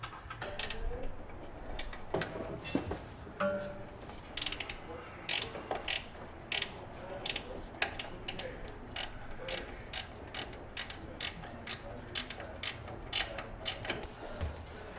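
A half-inch ratchet with an extension loosens a coilover bolt on a Toyota JZX100 Cresta, its pawl clicking in steady, evenly spaced ticks after a few scattered clanks, fairly faint and close.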